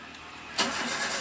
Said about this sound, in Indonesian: Kita hidupkan mesin seperti ini.